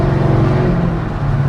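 A Mercedes R230 SL500 with 203k miles and a failing automatic transmission revs in a loud, steady engine drone as the gearbox slips out of gear, heard from close inside the car.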